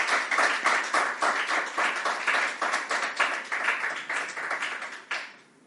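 A gathered audience claps in a fairly rhythmic, moderately close burst lasting several seconds, then the applause tails off and stops.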